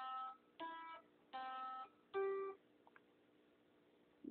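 An electric guitar plays a few separate notes of a riff, four distinct plucks with ringing harmonics and short pauses between them, up close and fairly quiet.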